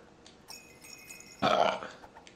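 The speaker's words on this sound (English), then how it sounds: "I burped." A single short, raspy burp stands out clearly above quiet game background sounds from Little Big Planet 3, preceded by a few soft chimes.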